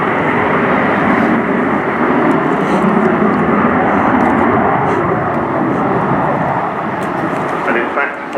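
Avro Vulcan XH558 bomber flying at the RIAT airshow, a loud, continuous broadband engine roar that holds steady throughout while someone talks over it.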